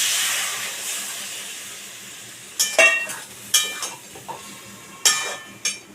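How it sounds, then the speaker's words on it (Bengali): Hot water poured into a pan of jackfruit and shrimp curry, setting off bursts of hissing sizzle and steam that flare in several sharp, close spurts over a steady background hiss. "গরম জল আমি দিয়ে দিলাম"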